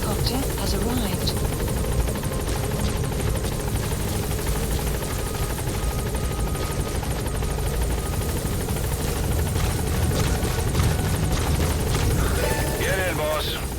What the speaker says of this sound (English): Support helicopter has arrived.